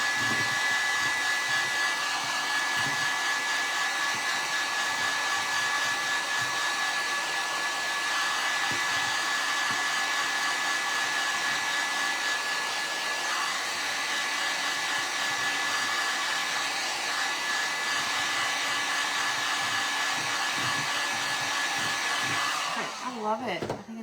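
A hair dryer blows on a freshly painted farmhouse centerpiece, a loud steady whooshing whine running nonstop and close before cutting off at the very end.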